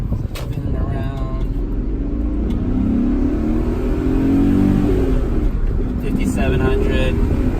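2003 BMW E39 engine accelerating toward 6,000 RPM, a loud rising drone heard from inside the car that climbs steadily in pitch, with a voice talking over the start.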